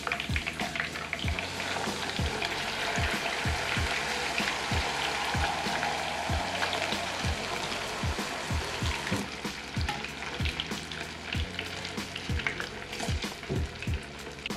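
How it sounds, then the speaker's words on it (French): Dumplings sizzle and fry steadily in a pan while a second batch boils nearby, a dense continuous crackle with regular soft tapping from stirring or turning, close and fairly loud, with no talk. "I'm gonna start frying the dumplings while Tanya boils them on the other side"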